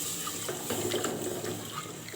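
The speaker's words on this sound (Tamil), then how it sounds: "இப்போ வந்து தண்ணி கொஞ்சமாக ஊற்றி இந்த மிளகாத்தூள் வாசனை போகிற வரைக்கும் கொதிக்க வைக்கலாம்." Water poured a little at a time into a pan of fried chilli powder for a village-style urundai kuzhambu, a short, faint splashing and trickle with soft bubbling.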